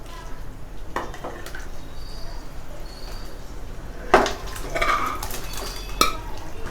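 Cooked mutton curry being moved from a pressure cooker into a pan, with soft metallic clinks and scrapes of utensils against pots, a sharper knock near the end over low kitchen background noise.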